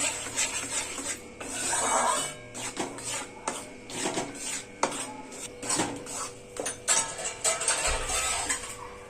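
Flour dry-roasting in a pan, stirred in quick, repeated rasping scrapes that come in bursts and pauses, close and fairly loud, with no talking.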